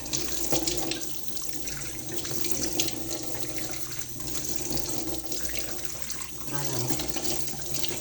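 Tap water runs steadily into a sink during a morning routine, a continuous broadband rush with splashing over the full clip, with faint background sounds beneath.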